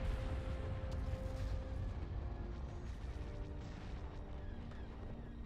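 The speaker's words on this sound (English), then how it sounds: "They detonate the station." A space station detonates in Star Wars Awakening of the Rebellion, a sustained distant rumble of explosions with scattered crackling bursts, fairly faint and continuous throughout.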